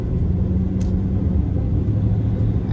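Car driving in road traffic heard from inside, a steady loud low rumble of engine and road noise with no pauses.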